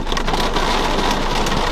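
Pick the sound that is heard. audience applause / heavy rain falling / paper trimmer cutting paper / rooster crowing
heavy rain falling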